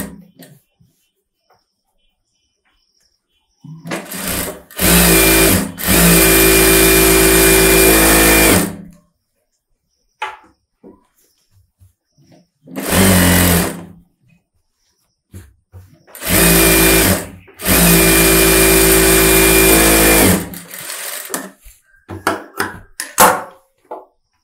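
An overlock sewing machine stitches a close-neck blouse in three loud motorized runs of a few seconds each, separated by quiet pauses with small handling clicks.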